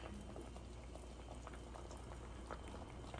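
Dal lentils boiling in a pot, a continuous quiet bubbling with small irregular pops and blips, close but soft, with no voices.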